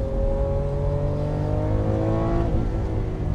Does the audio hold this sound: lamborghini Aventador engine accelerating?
yes